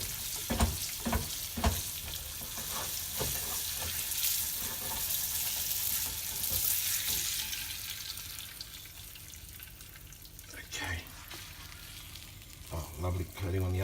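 Feta saganaki frying in a pan: a continuous bright sizzle with crackle, broken by a few clanks and scrapes of a utensil, loud and close.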